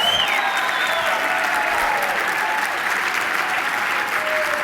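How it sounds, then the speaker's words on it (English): A crowd at a scholarship and auction event gives the assistant coaches a round of applause, with loud, dense, continuous clapping and a few faint whoops and voices mixed in. "Y'all give these guys a big round of applause, please."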